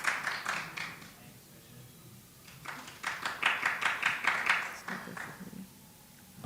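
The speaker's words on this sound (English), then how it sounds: "Would members of the public please refrain from clapping?" Scattered clapping from members of the public at a Brooklyn borough board meeting, a few people applauding in short uneven bursts that swell briefly and fade, moderately distant in a large meeting room.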